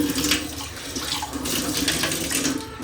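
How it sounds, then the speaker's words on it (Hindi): Tap water runs steadily into a vessel as it is rinsed, a loud close splashing and gurgling stream that continues without a break, with no voices over it. "एक बार इसे खंगाल लेता हूँ।"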